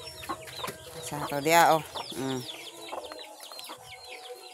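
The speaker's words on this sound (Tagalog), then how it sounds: "Sila guys ang atong mga manok." Chickens cluck and squawk close by, a few birds calling at once in short bursts, with a brief voice in the background.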